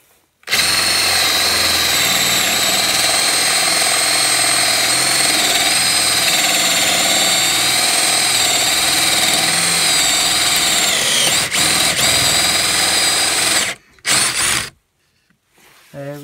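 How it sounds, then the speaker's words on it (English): Power drill boring a hole in wood for a bird box, a loud continuous high-pitched whine held for about thirteen seconds, then cutting out with a couple of brief bursts near the end. "One hole there, I'll drill another one there."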